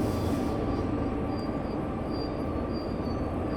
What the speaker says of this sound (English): brakes on, throttle off, trying to slow this train down, which is going to take quite a long time